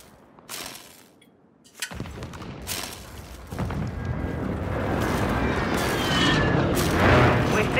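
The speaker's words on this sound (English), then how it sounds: "airstrike in the AO" Airstrike explosions in Call of Duty Modern Warfare 3, a string of heavy booming blasts that build into a sustained loud rumbling roar, with sharp bursts layered over the continuous blast noise.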